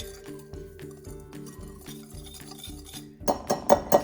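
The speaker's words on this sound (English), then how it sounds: "take our seed mixture, dump it into the dry ingredients, give it a quick whisk" A whisk beats a seed mixture into dry ingredients in a bowl, making a rapid rhythmic scraping and clinking close by, ending with a few brighter metallic taps against the bowl.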